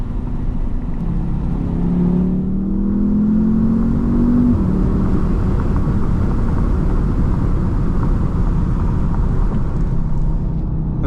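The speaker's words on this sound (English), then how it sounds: "This is a 2-liter turbocharged engine making around 300 horsepower, 281 pound-feet of torque." A 2019 Audi TT S with a 2-liter turbocharged engine pulls hard, a loud steady drone with a rising engine tone early on, heard from inside the cabin without talk.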